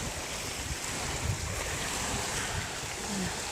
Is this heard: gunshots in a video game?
no